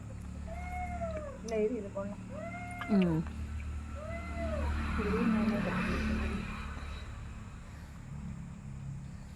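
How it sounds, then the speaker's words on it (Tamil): Several cat meows with rising and falling pitch, fairly close, spaced irregularly over a steady low background rumble, with faint voices. "பூனைக்கு போட்டுறாதீங்க அது பெரிய ராவடி பண்ணுது"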